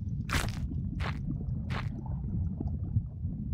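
Fish eating prey with three crisp crunching bites, spaced about half a second apart, in the Feed & Grow Fish video game, over a steady low underwater rumble.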